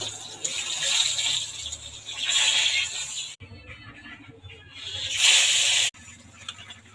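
Fish fries in hot oil in a home kitchen, a close, steady crackling sizzle that swells and drops between bursts, with no talking.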